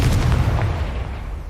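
Blasting spell explosion in the video game Hogwarts Legacy, a loud, deep booming blast with a rumbling low body that slowly fades, heard alone.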